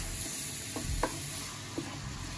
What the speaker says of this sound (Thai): ก็ผัดต่อไปให้มันสุกนะครับ